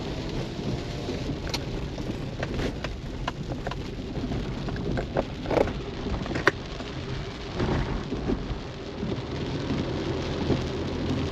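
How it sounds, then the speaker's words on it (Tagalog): Heavy rain pours steadily in a Philippine barangay, with rolling thunder and scattered close drops hitting surfaces, loud and continuous throughout with no talk. "Todo na gid ang ulan eh."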